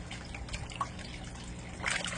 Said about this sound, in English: how they splash that water when they come up and get their food